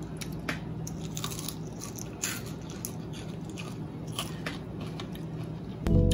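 Crunchy bites and chewing of fried halalu fish, a run of small crisp cracks and squishy mastication close to the mic over low background noise, with a louder bump near the end.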